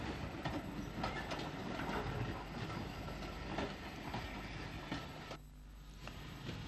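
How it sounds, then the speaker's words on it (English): Ivatt F6 class tank steam locomotive from the 1890s shunting rolling stock beneath an elevated signal box at Albert Quay station, County Cork: a steady, loud rumble of rail wagons with clanks and wheel noise throughout. "an F6 class 242 tank dating from the 1890s, shunts some stock under the unusual elevated signal box at Albert Quay"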